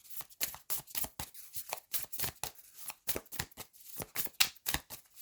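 A deck of tarot cards is shuffled by hand before one card is drawn, making a close, crisp run of rapid riffling bursts and flicks in an uneven rhythm, with no talk.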